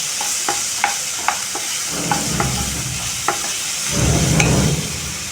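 A ground paste sautés lightly in hot oil for a cauliflower and potato sabzi, with a steady close sizzle and a few sharp spatula taps against the pan, swelling into a louder frying hiss near the end.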